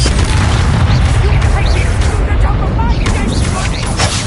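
A fiery Incendio spell blast erupts in Hogwarts Legacy combat, a loud, sustained roaring burst with crackling bright flares layered over the battle, while voices talk over it.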